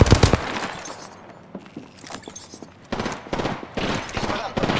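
Rapid bursts of gunfire from a Prowler submachine gun in Apex Legends, sharp and loud at the start and then resuming in clustered volleys, mixed with game effects and a voice speaking at times.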